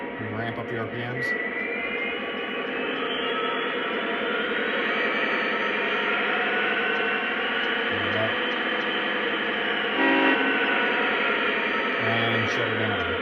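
A Lionel Union Pacific model diesel locomotive's engine sound ramps up in RPM, a steady loud droning hum that holds throughout with a brief swell near the end.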